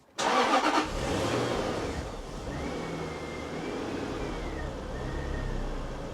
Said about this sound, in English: Try the engine.